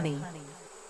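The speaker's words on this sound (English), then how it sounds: "The kingdom of bees." Bees buzz in a close, steady drone that starts loud and slowly fades, with no voices over it.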